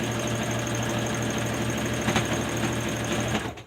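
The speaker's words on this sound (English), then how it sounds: "Making sure I'm sewing straight." A sewing machine stitches a blanket seam with a steady, close mechanical whir and rapid needle clatter, running continuously for several seconds before stopping abruptly at the end.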